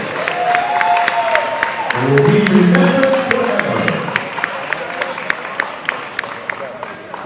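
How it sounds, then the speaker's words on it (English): Gym crowd clapping and cheering for senior players at a high school boys varsity basketball game, Amityville versus Kings Park, with a sustained patter of claps and a voice speaking over it. "Ladies and gentlemen, a round of applause for all of our seniors"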